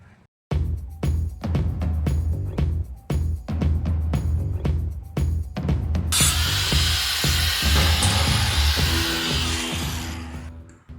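An angle grinder with a thin cutoff wheel cuts metal while fabricating custom trailer fenders. A run of sharp, separate bursts gives way to a loud, continuous hissing shriek of cutting that holds close and steady to the end.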